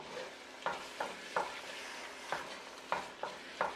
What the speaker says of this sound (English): Give that a mix, turn off your stove.